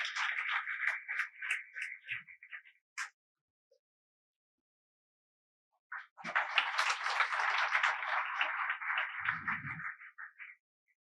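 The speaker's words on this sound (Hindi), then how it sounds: "एक बार जोरदार तालियां रणजीत जी के लिए।" An audience at an open session for RPSC lecturer and assistant professor candidates applauds for Ranjit in two bursts of dense clapping, each about three to four seconds long, separated by a few seconds of silence.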